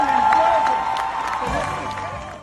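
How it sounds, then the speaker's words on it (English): Audience applause and cheering for the Disney on Broadway cast of Lion King, a dense wash of clapping from a large crowd, steady and fairly loud throughout, with a few whoops rising out of it. "let's give another big round of applause to the Disney on Broadway cast of Lion King"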